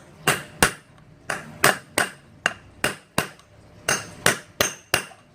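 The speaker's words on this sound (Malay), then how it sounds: "sekarang ni kita ketuk sehingga masuk ke dalam lah" Hammer striking a SYM VF3i motorcycle front rim to seat it in place, about fourteen sharp metallic knocks in irregular pairs and runs, close and loud with no talking.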